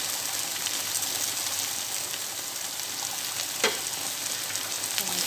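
Potato and bitter gourd sizzle steadily in hot oil in a pan, a continuous close frying hiss with a brief stir or clink midway and no voices.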